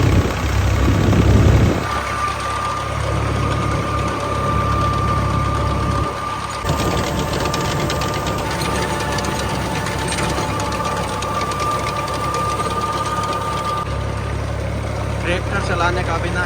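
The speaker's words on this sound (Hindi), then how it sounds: "ट्रैक्टर चलाने का भी ना अपना ही मज़ा है।" A tractor engine runs steadily at close range, a constant chugging drone with a whining tone over it that holds for the whole stretch, with no talk on top.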